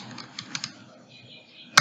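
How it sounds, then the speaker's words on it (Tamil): Keys on a computer keyboard are struck in a short, uneven burst of soft clicks, ending in one sharper tap, close and fairly quiet with no speech. "அப்படின்னு டைப் பண்ணுறேன்."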